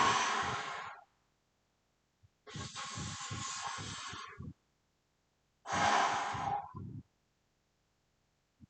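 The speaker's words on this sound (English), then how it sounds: "exhale when curling up and inhale on the negative" Exaggerated, forceful breathing during bicep curls: three long hissing exhales and inhales, each about one to two seconds long, separated by silent pauses, close and loud.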